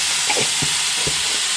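Ginger garlic paste frying in a pan gives a steady, close sizzle, broken by a few soft stirring scrapes, with no voices.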